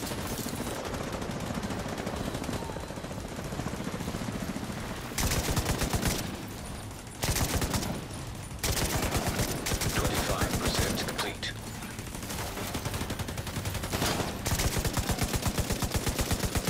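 Rapid bursts of automatic gunfire in a firefight in the video game The Division 2, loud and dense. The shooting runs in long stretches broken by brief pauses.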